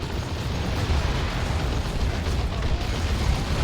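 Stick bombs exploding in a Warhammer 40,000: Dawn of War 2 3v3 battle, a dense, continuous roar of overlapping blasts and rumbling booms with no clear gaps between detonations.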